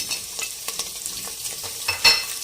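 Ginger, garlic and green chillies sizzle as they fry in oil with browned onions for chicken pulao, with steady crackling and a few spoon stirs scraping the pan, close and fairly loud, with no voices.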